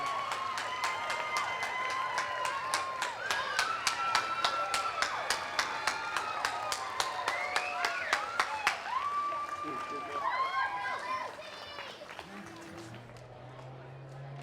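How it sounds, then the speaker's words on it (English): An audience at a talent show claps loudly and steadily, a dense crowd applause that fades out toward the end as a voice begins speaking. "again have you give all of these performers a great big round of applause"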